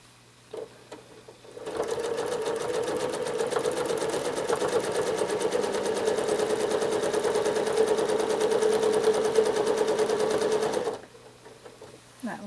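A sewing machine free-motion quilts a spiral in one long, steady run of rapid needle stitching. It starts abruptly and stops abruptly after about nine seconds, close and even in level.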